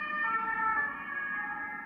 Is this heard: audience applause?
no